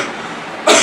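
A sick elderly father coughs once at close range, a short harsh burst at the end after quiet room noise.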